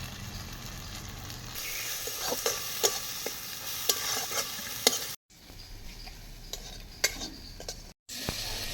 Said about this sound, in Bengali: লাউ জল দিয়ে মশলাটাকে ভালো করে কষিয়ে নেব।